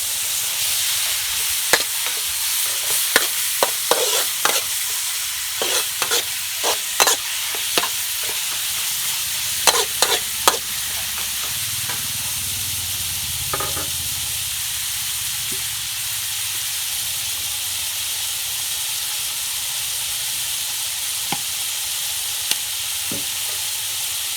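Continuous sizzling of chopped pork frying in a pan, with scattered sharp scrapes and clicks of a utensil stirring throughout.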